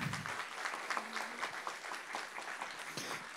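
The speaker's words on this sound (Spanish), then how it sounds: "con un fuerte aplauso, Francis de los Santos." Audience applause at a Dominican literary talk in Sabana Buey, greeting the author Francis de los Santos; moderate, steady clapping from a mid-sized crowd, heard at some distance with a faint voice briefly underneath.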